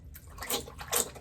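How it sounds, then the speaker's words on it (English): Water splashes at a bathroom sink as a face is washed by hand, soft uneven swishes and splatters close by with no talking. "now I'm just gonna wash my face with water"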